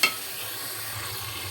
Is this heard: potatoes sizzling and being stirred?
yes